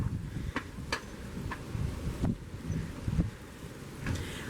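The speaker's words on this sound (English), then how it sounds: "Hopefully we're not too windy because it is windy out today." Gusty wind buffets the microphone outdoors by a storage shed full of old rusty tools, a low rumbling roar with scattered sharp clicks and taps throughout.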